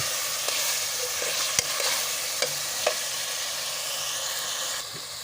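Chicken liver fries in a pan with a continuous hiss and sizzle, broken by a few sharp clinks and scrapes of a spoon stirring.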